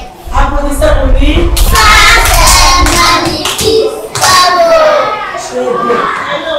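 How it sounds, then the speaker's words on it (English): Schoolchildren at a Nigerian school in Ibadan clap together, a loud burst of close, rapid applause with a few voices calling out between the claps. "Applaudissez pour lui."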